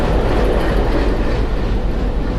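A local train arrives at Rajbari railway station with a loud, continuous rumble of wheels and carriages, a steady close roar holding throughout with faint rhythmic clatter.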